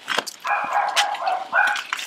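Dogs at a workers' campsite on the road in Thailand give a mix of sharp barks and higher yips and whines. The sounds come close and overlap in irregular bursts.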